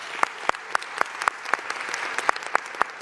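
Steady applause from a crowd at a New York City mayoral event, dense clapping with a few sharp louder claps standing out, continuing without pause.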